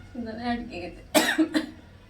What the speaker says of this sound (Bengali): তুই তখন থেকে খসর খসর করে কেসে যাচ্ছিস কেন